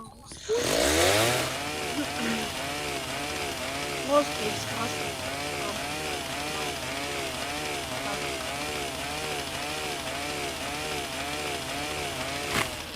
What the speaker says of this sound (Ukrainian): Бензопила.